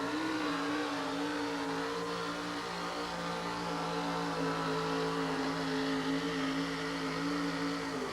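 A 4WD pulling truck nicknamed Old Yeller, its engine built by the owner's teenage son, roars steadily at high revs through a truck pull inside Kemper Arena, a loud sustained drone with harmonic bands that shift slightly as it works.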